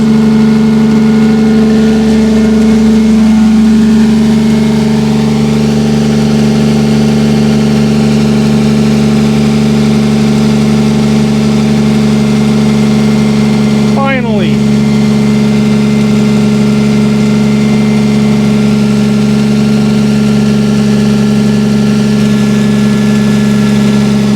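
A 1987 Toyota Supra with a 2JZ-GE engine idles slightly high, a loud, steady, smooth hum close by for the whole stretch, with one brief rising whine midway.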